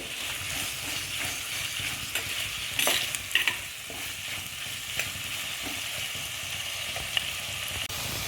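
Food frying in a pan with salt for a fish curry, a steady close sizzle under repeated scraping stir strokes and a few clinks.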